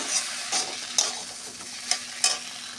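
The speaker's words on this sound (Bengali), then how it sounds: "এই খালি কড়াইতে টালা মশলাগুলো দিয়ে বেশিক্ষণ আমি কষাবো না" Dry-roasted spice mix is sautéed in an empty wok, with a faint soft sizzle punctuated by about five sharp scraping strokes of a spatula against the metal, close and without speech.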